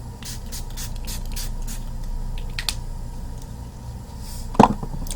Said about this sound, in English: Set it another time with Makeup Forever Mist and Fix.